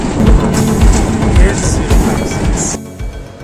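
Pakistan Railways' Awam Express, hauled by locomotive HBU 8056, rumbles loudly close by between Rawalpindi and Peshawar, with rhythmic clickety-clack wheel beats that cut off near the end.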